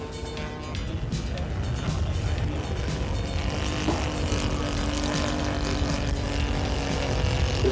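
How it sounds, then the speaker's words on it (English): Enya V240 twin engine powering a model P-40 airplane on takeoff, a buzzing, rising engine drone heard from some distance over outdoor background noise. "Power is applied for takeoff by the Enya V240 twin."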